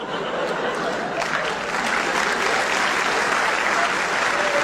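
Sustained audience clapping during a Hindi spiritual talk, a dense even wash of hand claps filling the whole stretch with faint chuckles mixed in.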